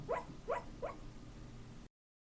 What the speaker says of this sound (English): My dog is sleeping. She's dreaming right now.